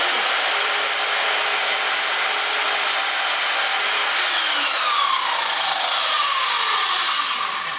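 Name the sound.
Einhell miter saw cutting wood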